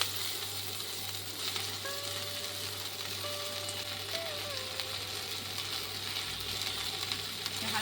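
Water spinach greens fry lightly in a pan over a spice tempering, with a continuous moderate sizzle and faint stirring sounds throughout.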